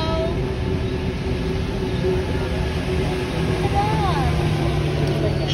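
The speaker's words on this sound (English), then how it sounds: "We are in the metro." A metro train runs with a steady, loud rumble and rolling rail noise throughout, with faint voices underneath.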